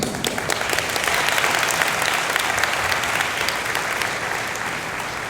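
An audience at the final of the International Young Physicists' Tournament applauds three competition participants with dense, sustained clapping that stays loud and even for the whole stretch, with no talk over it.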